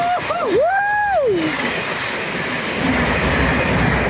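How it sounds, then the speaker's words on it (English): A loud, continuous rumble of a passing freight train fills the scene on the East Coast Main Line at Hatfield, with a sliding squeal of wheels at the start fading into steady roar. "there's a freight train just down there."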